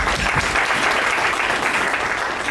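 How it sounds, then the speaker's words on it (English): A crowd at a 60th birthday event breaks into loud, continuous applause, dense clapping sustained from start to finish. "So we need to give all of you a round of applause."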